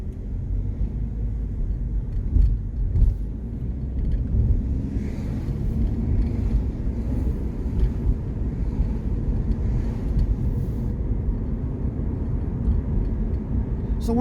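A 2023 Subaru BRZ driving along a road, heard as a steady low rumble of engine and road noise from inside the cabin, continuous throughout with no voices.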